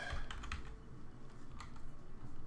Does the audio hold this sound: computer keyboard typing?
yes